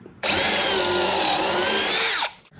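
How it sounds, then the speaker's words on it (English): A power drill bores 3/4 inch pocket holes into wood pieces for a DIY kitchen pantry cabinet: one loud, steady whine that starts abruptly, holds for about two seconds, then winds down, with no talking. "I'm also going to add 3/4 inch pocket holes on one end of each of my towers."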